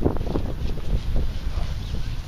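Gusty wind buffets a microphone outdoors in a local park during metal detecting, producing a low, uneven rumble that surges and eases throughout.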